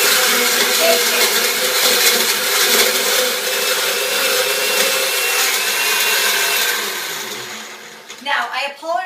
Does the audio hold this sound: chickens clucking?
no